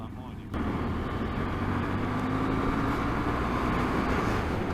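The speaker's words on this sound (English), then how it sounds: "Is that you revving, Mr. Ramsey?" A camper's engine revs on a narrow Scottish touring road, a steady, loud low drone that rises in a few moments and then holds strong and close for several seconds.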